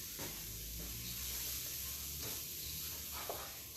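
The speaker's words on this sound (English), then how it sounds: "you just want to stir it around because it's cauliflower" Cauliflower fried rice sizzles steadily in a hot pan while it is stirred, giving a constant hiss with a few soft scraping pushes of the utensil.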